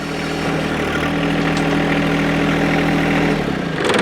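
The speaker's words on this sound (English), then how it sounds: "So shift to neutral, ready to start with the tractor running" A John Deere 2025R compact tractor idles in neutral with a steady, loud diesel rumble, close by, with a shift in tone near the end.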